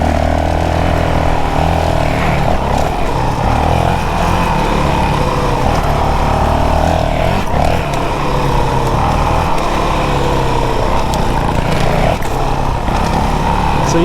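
Stock 2022 Honda CRF450RL dirt bike ridden on a motocross track at Highland Park Off Road, a loud continuous engine drone up close with rising and falling revs and no talk.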